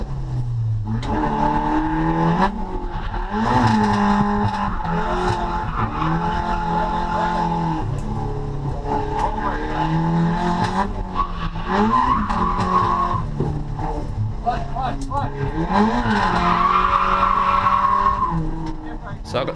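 A car drifting on a race track on a track day, entered with the handbrake in third gear, its engine revving and tires squealing in long repeated wails throughout, with a person talking over it.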